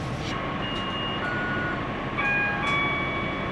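Steady rumbling hum of a ScotRail train moving along, with high electric whines and tones drifting in and out over the continuous noise.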